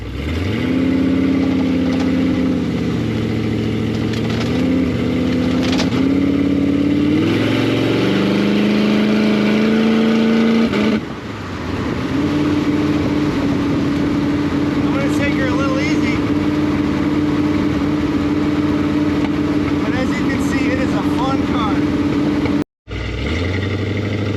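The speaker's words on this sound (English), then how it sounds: "let's go see how she runs" A loud 1994 Ford T-Bucket hot rod engine revs and pulls steadily as the car drives and accelerates, pitch climbing between gear shifts, with a brief dip before it resumes, then a cut near the end.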